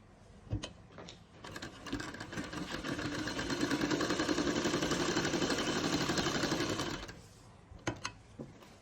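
Sewing machine stitching a lady's kameez, running steadily for about four seconds with a rapid even whir, bracketed by brief handling clicks and knocks before and after; fairly close and moderately loud.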